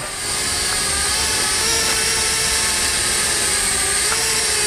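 A steady high-pitched buzzing whine of small propellers, continuous and fairly close, as an S105A quadcopter drone hovers overhead outdoors with constant wind noise.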